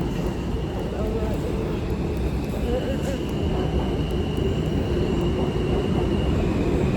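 A New York subway J train rumbles steadily on the tracks, a loud continuous low roar with rail noise filling the whole stretch, and a voice speaks faintly beneath it.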